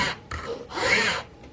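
A file scrapes back and forth over a homemade powder horn in two or three quick close strokes, a dry rasping sound with no one talking.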